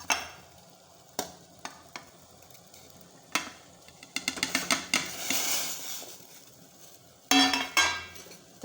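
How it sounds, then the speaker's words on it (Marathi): Soybean chunks are tipped into a pot of boiling water for a soybean bhaji, giving a series of clinks and splashy stirring sounds with a bubbling, sizzling wash in between, then a louder clatter near the end. "पाण्याला आता उकळी आल्या,"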